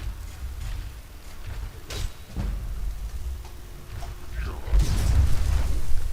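A Firestorm spell erupts in the game Skyrim, building to a deep, rumbling blast near the end over steady low background noise and scattered game sounds.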